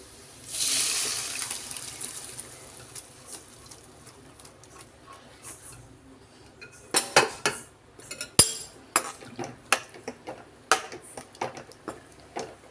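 Dry chana dal tipped into a cooking pot, giving a soft pattering rush at first, then a run of sharp clinks and scrapes of metal on the pot, moderately close and without talk.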